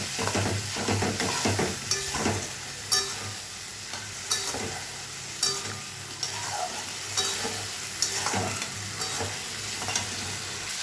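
Spice masala fries in oil in a pan for a vegetarian lentil dish with potatoes and fritters. A spoon stirs and scrapes it over a constant sizzle, with sharp clatters recurring every second or two, close up and with no talking.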